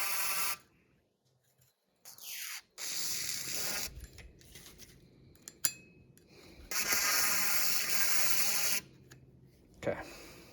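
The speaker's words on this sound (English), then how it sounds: "I'm going to run some WD-40 down the pipe of this bad boy." WD-40 sprayed down the barrel of a rifle from Royal Tiger Imports: close, hissing spray bursts, one short and one longer sustained blast, with quiet handling noises between.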